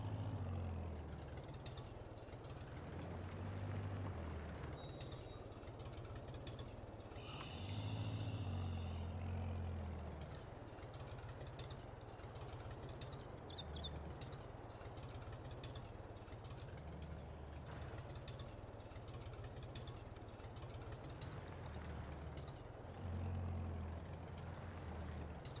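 A tractor engine in Farming Simulator runs steadily at a low idle-like drone throughout, with a few louder surges as it works; no one speaks.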